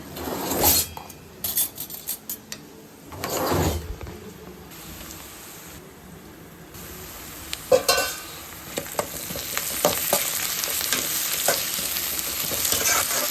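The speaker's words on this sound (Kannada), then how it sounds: "ಈರುಳ್ಳಿ ಈಗ ಇದಕ್ಕೆ ಶುಂಠಿ ಬೆಳ್ಳುಳ್ಳಿ ಪೇಸ್ಟ್ನ ಹಾಕ್ಕೊಳ್ಳೋದೆ" Onion frying with ginger garlic paste in a pan gives a steady close sizzle, broken by repeated scraping and clinking stirs of a spoon against the pan.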